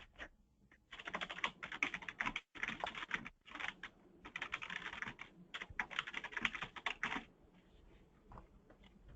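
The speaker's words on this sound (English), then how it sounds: "I heard somebody typing though." Someone types on a computer keyboard during a transit contracts meeting, rapid clattering keystrokes in dense bursts with short pauses, fairly close and with no talking over it.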